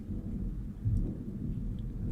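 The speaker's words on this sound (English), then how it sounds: "Sounded like an explosion, but no, that's lightning." Thunder from a lightning storm rolls as a deep, low rumble that swells briefly partway through, heard indoors with faint rain-like hiss and no talking.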